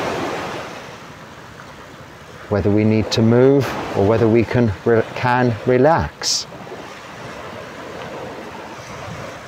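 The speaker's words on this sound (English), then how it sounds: "If I suddenly heard a roar of waves behind me, this sound would bring about action." Ocean waves roar and wind rushes in a steady, continuous wash, with someone talking over it in the middle.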